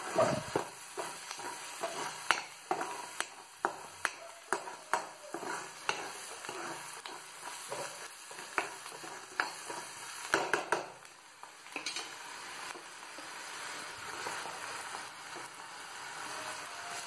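Onions fry in a pan for a Maharashtrian catfish curry, with a steady soft sizzle under repeated rhythmic scraping strokes of a spoon stirring them. The sound is close and continuous, with no talking.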